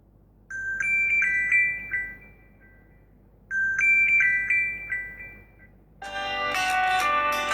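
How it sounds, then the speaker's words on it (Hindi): A Huawei Y5P phone plays ringtones through its built-in speaker. A bright electronic chime melody plays twice, each phrase about two and a half seconds long with a pause between, and a denser, busier tone follows at the end. "यहाँ से कुछ रिंगटोन्स को चला के देख लेते हैं कि कैसी क्वालिटी है"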